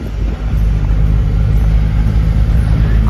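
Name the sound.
road traffic, car engine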